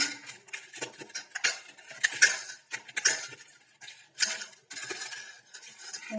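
Koi fish being mixed with salt and turmeric in a bowl makes close, irregular clinks, scrapes and wet clatter of utensils, with no talking.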